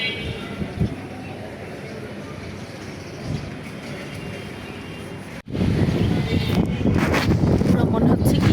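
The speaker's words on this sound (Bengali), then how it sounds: "এরকম ঠান্ডা বাতাস" Cold wind blows outdoors on a cloudy, drizzly day, making a rough, rumbling rush across the microphone that turns louder and gustier after a short break midway.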